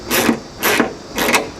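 Ratchet wrench snugging down the screws on a race car taillight during installation, three short bursts of rapid clicking evenly spaced, close and fairly loud with no other sounds.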